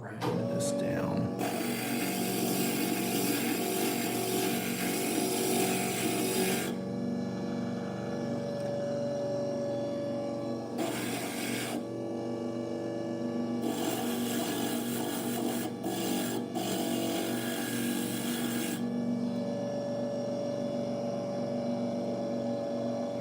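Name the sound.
grinding stained glass for a praying mantis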